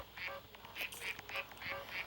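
Cartoonish duck quacks from a video game repeat in short bursts, roughly five calls spaced evenly over two seconds, fairly close and clear over a light background hum.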